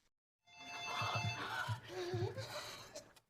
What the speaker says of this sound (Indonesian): telepon pun berbunyi